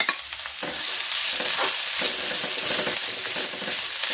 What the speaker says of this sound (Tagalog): Gigisa ko na itong bawang.